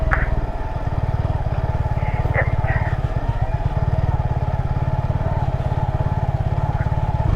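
A motorcycle engine chugs steadily up close, its rumble shaking and fluctuating as it rolls over uneven, wet off-road ground on Kennon Road.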